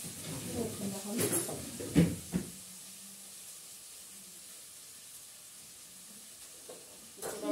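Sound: meat frying in a pan

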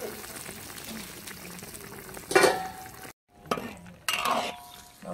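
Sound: stirring home-style tofu in a pot

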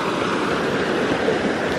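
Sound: river water flowing

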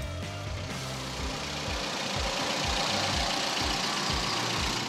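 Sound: Daihatsu GranMax engine idling

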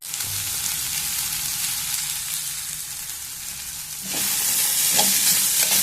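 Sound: cauliflower (gobi) frying in a pan

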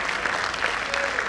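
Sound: audience clapping

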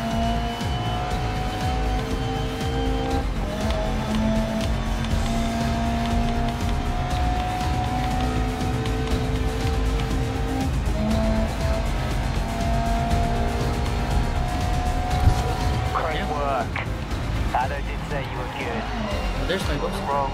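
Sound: GT car engine and drifting tires in video game GRID Legends

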